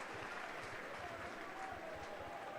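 Rugby league stadium crowd in the South Stand applauding a young player during a Leeds versus Hull playoff match, a distant, continuous wash of clapping under a commentator's voice.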